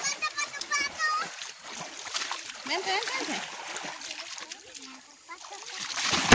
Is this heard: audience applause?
no